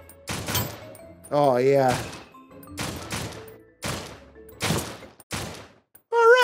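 Gunfire in the SURV1V3 VR zombie game, several separate loud shots and short volleys spaced a second or so apart, close by, with a voice speaking between them.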